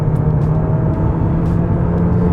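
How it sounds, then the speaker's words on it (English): A 2024 Mercedes-Benz GLA200 facelift engine revving high, a steady loud drone with a strong low hum held throughout and no voices over it. "Even when you rev the engine up high,"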